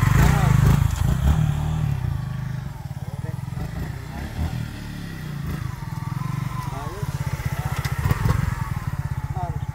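A motorcycle engine idling and revving up close with a steady, throbbing putter, while people talk over it.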